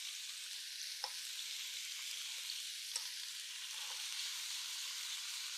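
A large balsamic-marinated lamb chop searing in a skillet gives a steady, hissing sizzle, with a few faint pops and crackles rising over the constant fry.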